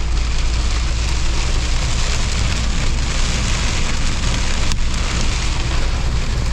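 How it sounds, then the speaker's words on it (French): Heavy rain drums steadily and loudly on a moving van's roof, with a low road rumble underneath throughout. "Il pleut."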